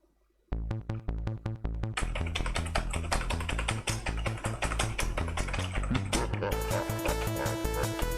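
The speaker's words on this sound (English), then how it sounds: "Let's align this keyboard. It's gonna slide in a wee bit." Plastic keyboard being aligned and slid into place on a Wemos D1 mini biometrics prototype, a sudden dense run of close rapid clicks and rattles that continues steadily throughout with no talking.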